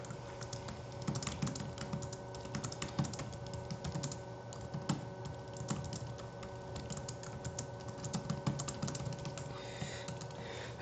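Steady clicking of fingers typing on a computer keyboard, close and continuous with uneven bursts of keystrokes and no voices, as a command is entered during a server hacking session.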